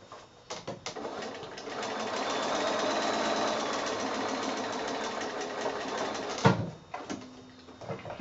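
A sewing machine stitches a row of quilt blocks in one steady run of several seconds, then stops, followed by a few handling clicks.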